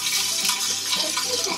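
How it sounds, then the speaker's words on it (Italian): Olive oil goes generously into a low-heat pan already holding anchovies, giving a close, bright hiss and light sizzle with faint liquid gurgles, short and fairly loud, with no voices. "Aggiungiamo l'olio"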